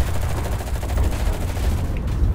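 Rapid bursts of gunfire pound against a tank in the WWII shooter Enlisted, a dense, continuous rattle of shots and impacts with no pauses across the whole stretch.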